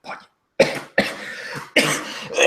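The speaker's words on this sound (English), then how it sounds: "he sort of descends into a coughing fit" A tabletop RPG game master voices an old man breaking into a coughing fit: a short wheeze, then three harsh, close coughs in quick succession, each one loud and raspy.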